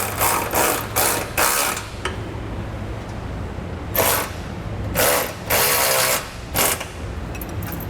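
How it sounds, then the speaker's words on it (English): A hand ratchet with a 19mm socket clicks in quick bursts while snugging trailer hitch bolts on a 2016 Jeep Compass, with several rapid ratcheting runs separated by short pauses, close and clear. "We're going to use a 19mm or a 3/4 inch ratchet and wrench."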